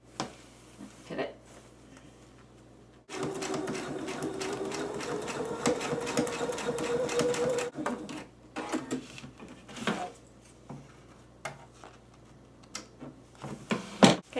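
A sewing machine stitches through plastic on a handmade purse dust bag, its needle running in a steady, close, mechanical rattle with brief pauses and restarts for pivots, surrounded by quieter handling clicks.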